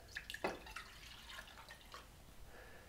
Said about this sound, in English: What we're gonna do is just add the milk into it.